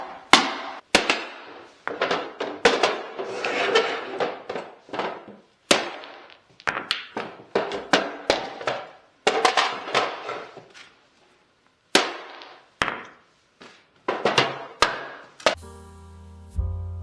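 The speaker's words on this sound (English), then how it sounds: "So I'm just going to go ahead and essentially hammer it off." Hardware is hammered off an antique wooden desk in a series of sharp, irregular blows, some in quick bursts and others spaced by short pauses, with a brief musical tone at the end.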